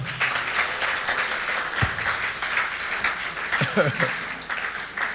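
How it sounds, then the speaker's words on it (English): A crowd applauds after a talk on controlling blood pressure, with a continuous patter of clapping running the whole stretch and a few voices murmuring underneath. "Somebody clap."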